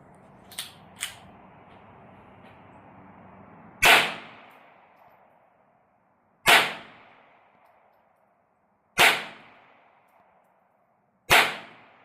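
Four loud suppressed shots of CCI Mini-Mag .22 rimfire through a B&T Tiger 22 suppressor, sharp cracks evenly spaced a few seconds apart, each trailing off in a brief outdoor echo, preceded by faint mechanical clicks.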